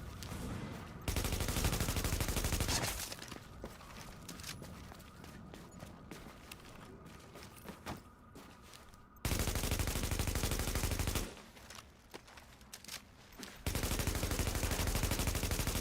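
Sustained automatic gunfire with heavy recoil in Tom Clancy's The Division, with long loud bursts of rapid shots separated by quieter stretches of distant firing and movement.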